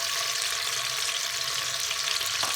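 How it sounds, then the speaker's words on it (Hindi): Chopped onions fry in hot oil for Pakistani street-style daal mash, giving a loud, constant close-up sizzle and crackle with no pauses. "हमने छोटे साइज का प्याज काट लिया था, उसको डालेंगे।"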